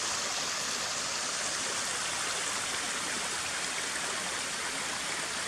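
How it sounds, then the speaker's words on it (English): Several streams rush down a forested mountainside above a flooded, boggy embankment, a steady close roar of flowing water that never lets up, with no voices. "there's several streams coming down the mountainside here"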